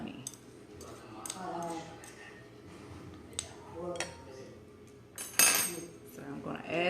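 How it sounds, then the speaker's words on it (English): A spoon stirring a teaspoon of honey into a vinegar marinade for collard greens, giving light clinks and scrapes against the bowl over a steady background, with a louder clatter near the end while someone speaks. "So I'm going to add that in there, stir that up."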